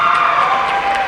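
An audience at a school assembly cheers loudly and steadily, a dense wash of shouts and applause from a large crowd in an indoor hall with a few whoops rising above it.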